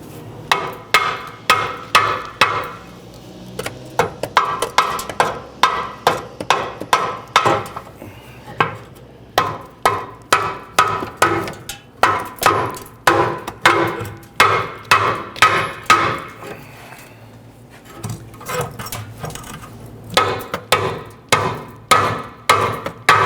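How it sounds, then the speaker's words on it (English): A hammer taps a rear upper control arm bushing on a 1999-2004 Jeep Grand Cherokee again and again, sharp ringing metal blows in quick bursts with short pauses between them, close and loud. "Might be able to use a hammer to go ahead and tap this back."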